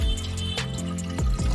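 Water pours steadily into a Vijayalakshmi tilting wet grinder, a continuous close splashing and trickling with a few small bumps and gurgles.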